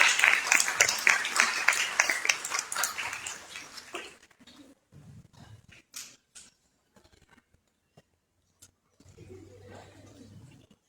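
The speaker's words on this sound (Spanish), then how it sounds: "con correspondientes fuertes palmas." An audience at a COP 30 conference gives a burst of strong applause that fades away after about four seconds, leaving sparse quiet noises and a brief low hum.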